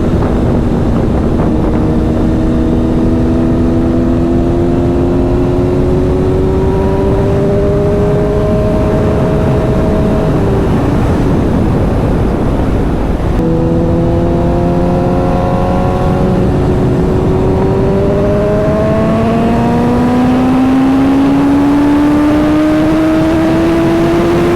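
A 2024 BMW M1000RR motorcycle with stage 2 tune mods revs and climbs through the gears twice, its exhaust note rising in pitch each time, loud and close with steady wind rush.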